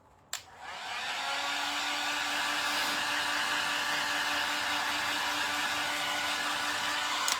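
A heat tool switches on with a click and runs as a steady, loud whirring blow to dry Dixie Belle top coat on an upcycled tray, holding a constant tone to the end.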